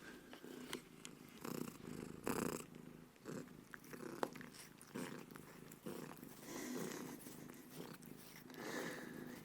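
A pet cat purrs close to the microphone in a soft, continuous rumble, with faint whispering and small rustling handling noises over it.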